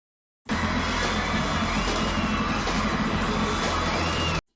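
An audience at a concert claps and cheers in a dense, continuous roar of applause and shouts that starts abruptly and holds steady for a few seconds.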